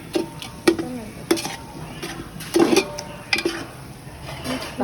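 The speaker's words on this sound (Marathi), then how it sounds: "थोडा गरम मसाला, चांगल्या पद्धतीने मिक्स करावे" Crab masala being stirred in a pan with a spoon, producing repeated close scraping clinks and taps against the metal in an irregular rhythm, over a faint sizzle.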